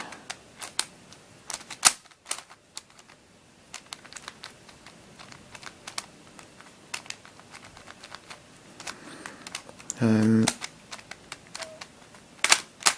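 A WitEden Mixup Plus 3x3 speed cube is turned face by face, giving close, crisp plastic clicks and snaps in quick, uneven bursts with brief pauses and one louder clattering flurry; no one talks.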